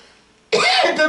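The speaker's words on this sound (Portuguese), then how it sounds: "eu estou ainda com um pouco de tosse rouca" A hoarse, rough cough from an adult preacher during a Portuguese-language sermon, one short harsh burst after half a second of quiet, close and loud.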